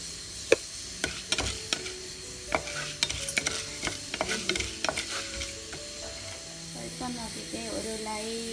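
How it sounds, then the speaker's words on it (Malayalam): Spices dry-roasting in a pan for varutharacha sambar crackle with sharp ticks and soft sizzling while a spoon stirs and scrapes, close up and moderately quiet, with occasional speech alongside. "ഇത് നമ്മൾ മാറ്റിയിട്ട് നമ്മൾ അടുത്തത് വറുത്തെടുക്കും"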